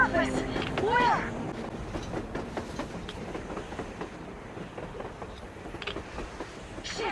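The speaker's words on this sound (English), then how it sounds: "A train! A damn train on the surface!" A train runs on the surface in the video game Metro Exodus, a rumbling, rattling clatter of rail cars heard at moderate level, with voices speaking briefly at the start and faint clanks throughout.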